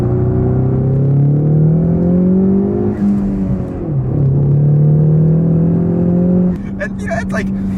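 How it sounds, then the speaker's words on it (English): A Ford Mustang EcoBoost accelerates hard from second gear, its engine note climbing steadily and loudly, dropping briefly at an upshift and then rising again, heard from inside the car. "let's go and do a pull from second gear and see how it feels"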